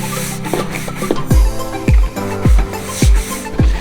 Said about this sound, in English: And now we're just gonna scrub all the composite down and let the bleach pick up all the mold and everything.